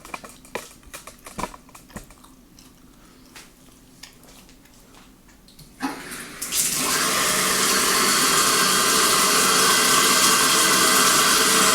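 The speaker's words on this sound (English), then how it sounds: "for this test we're gonna have to fill this thing with water" Scattered light clicks and taps, then a steady loud rush of running water starts and continues without a break, like a tap filling a container.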